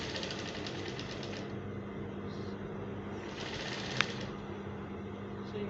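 A sewing machine stitching filler fabric into an African fila cap, a fast steady mechanical chatter that runs continuously at close range, with a small click partway through.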